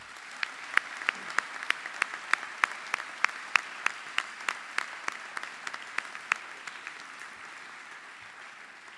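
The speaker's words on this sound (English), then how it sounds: "a massive round of applause" Applause for parents, families and guardians at the Northwood school speech day, a steady, fairly quiet crowd clapping with sharp, regular louder claps from one nearby clapper punctuating it throughout.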